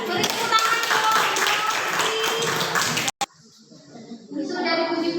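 A classroom group claps in dense, fast applause for about three seconds, which stops abruptly, followed by quieter room noise and faint voices.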